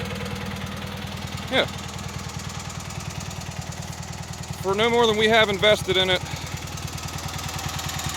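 A Cub Cadet 782 garden tractor engine idles steadily with a low, even chug throughout, nearby and moderately loud, while someone talks over it partway through.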